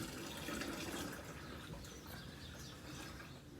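Hot sugary water for homemade wine is poured carefully into a vessel, a faint, steady trickle and splash with light clinks, quiet and close, without speech.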